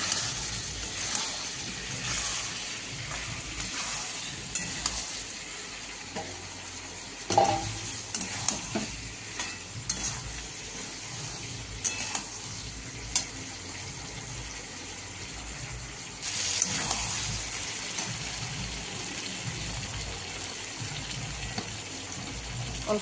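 Prawns sizzle in a pan with a steady, bright hiss, broken by clinks and scrapes of stirring and a louder surge of frying near the end, with no voices.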